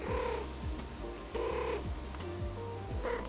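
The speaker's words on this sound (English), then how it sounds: "As a short break, let's watch some kittens." Kittens purr in a soft, steady rumble, with repeated breathy cycles close to the microphone and no voices.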